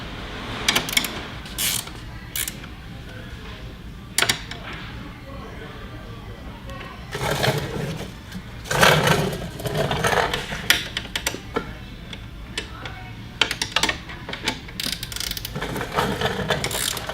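Ratchet wrench tightening the front two bolts of an Actimo seat slide on a Merritt Synergy wheelchair seating system, heard as bursts of quick clicking spread through the clip with pauses between, close and fairly clear over a quiet room.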